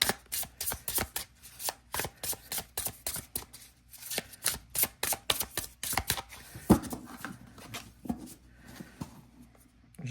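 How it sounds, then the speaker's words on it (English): A thick gilded card deck is riffled and shuffled by hand in repeated quick bursts of crisp flapping, close and alone, with short pauses between passes. "Let me see if I can even shuffle this."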